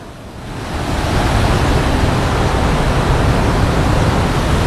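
A river waterfall along the Valparai to Athirapally route in Kerala: a dense, loud roar of rushing water that rises within the first second and then holds steady and close, with no talk.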